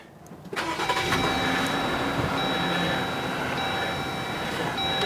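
A 2022 Jeep Gladiator Rubicon engine is started by push button, cranking briefly and catching, then settling into a steady, fairly loud idle with a faint high whine, heard from inside the cab.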